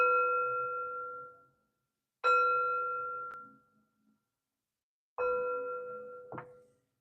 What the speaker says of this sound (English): three chimes to bring in positive energy